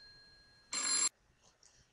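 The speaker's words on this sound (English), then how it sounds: "Oh hey, we're getting a phone call." A short electronic telephone ring bursts out once on a radio call-in show, loud and bright, then cuts off, leaving faint background tones behind it.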